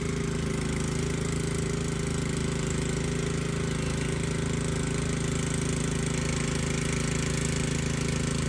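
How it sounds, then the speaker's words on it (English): A newly repaired riding lawnmower runs steadily at close range, its engine giving a constant low droning hum with a buzzy rattling edge, unbroken for the whole stretch with no talking over it. "My wife is riding her newly fixed lawnmower"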